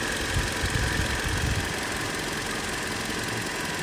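A used car idles with its AC switched on, a loud steady mechanical hum and whirring fan noise close up, constant throughout with no talk.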